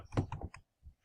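Several quick bursts of clicking keystrokes on a computer keyboard, close and fairly quiet, with short pauses between the groups of taps and no voices.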